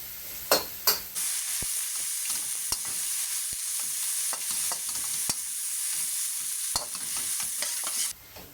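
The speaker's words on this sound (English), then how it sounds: "So continue stir frying," Beef and bok choy stir-frying in a hot wok: a loud continuous sizzle and hiss with sharp scraping strokes of a utensil at irregular intervals, close up, no talking.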